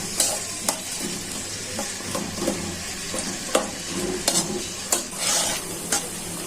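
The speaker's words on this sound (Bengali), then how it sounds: "এখন পেঁয়াজটা ভালো করে ভাজা হয়ে যায়" Onion sizzles steadily in hot oil while a spatula scrapes and knocks against the pan in repeated, uneven strokes, close and fairly loud over a constant frying hiss.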